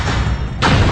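Howitzer artillery fire, 105mm and 155mm guns pounding the ridges and buildings of Troina, heard as a loud dull boom with a sudden broadband blast partway through in a brief, archival-sounding recording.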